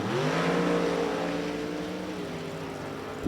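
A Mustang drag car in Top Sportsman qualifying at National Trail Raceway launches, its engine a loud, sustained roar with rising harmonic tones that steady and fade slightly toward the end.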